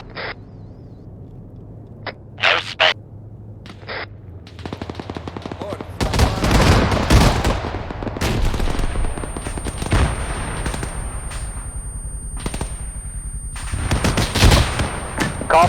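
Tank combat in a multiplayer war game set in a Baltic ambush: sparse sharp shots open, then sustained loud machine-gun and cannon fire with heavy bursts and rumbling, under occasional radio chatter.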